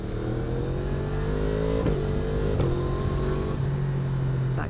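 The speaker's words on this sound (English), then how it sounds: "That quick shifter sounds so fucking good." A 2024 Yamaha MT-10 motorcycle engine accelerates hard and steadily, rising in pitch through several quick-shifter upshifts, each marked by a brief crack before the climb resumes, loud and close throughout.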